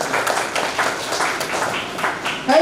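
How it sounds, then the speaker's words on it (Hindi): Audience applause greets an honored guest at a Chhatrapati Shahu Ji Maharaj birth anniversary function, a steady dense patter of clapping held at an even level for the whole stretch, with a little rise at the end. "इनका जोरदार तालियों से स्वागत"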